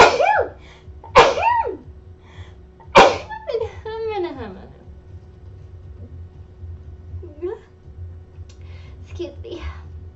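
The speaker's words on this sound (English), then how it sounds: "Oh my gosh, I'm gonna sneeze." A couple of sharp, loud sneezes burst out near the start, followed by brief voiced sounds and quieter scattered noises in a mostly hushed room.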